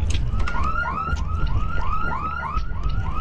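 A repeating warbling siren wail from the Siren Head monster in the game Lethal Company, rising and falling in quick cycles over a low rumbling background, loud and steady with no talking.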